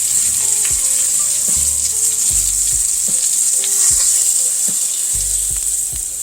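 Chicken fried steak sizzles steadily in a frying pan, a loud constant crackle up close with occasional scraping and knocking as the pieces are moved.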